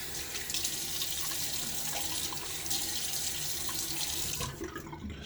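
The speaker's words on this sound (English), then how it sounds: "what I want to do is splash my face with some water" A sink tap runs steadily as water is splashed onto a face, a continuous hissing stream with small splashes that cuts off abruptly near the end.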